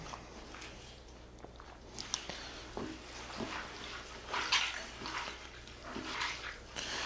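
Overripe kimchi squeezed and mixed by hand makes wet squelching and squishing sounds, with irregular soft smacks and sloshes throughout, close and fairly quiet, with no talking.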